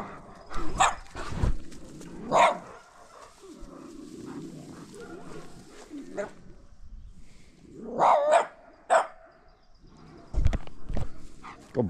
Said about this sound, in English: He could be a scrappy dog.